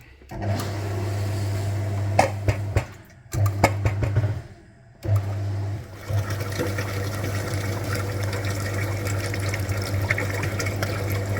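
A cooling-system flushing machine pushes water through the engine of a Subaru Outback in a repair shop, a steady hum and rushing flow that cuts out briefly twice before running on continuously.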